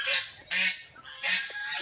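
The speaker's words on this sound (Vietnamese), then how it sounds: "Hai chú ngỗng đi đâu về hoài vậy?" Pair of geese honking in a rural Vietnamese setting, three loud nasal honks in an uneven rhythm, close by and heard alone without talk.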